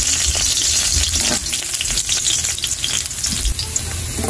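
Garlic sautéing in hot cooking oil in a pan for pork adobo, heard as a loud, dense, continuous sizzle and crackle up close, with stirring scrapes mixed in and no talking.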